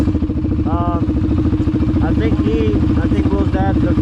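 ATV engines rev and idle at a drag race during test hits, including a 2020 and a 2006 Yamaha Raptor 700; a loud, close, pulsing engine throb is overlaid by people talking.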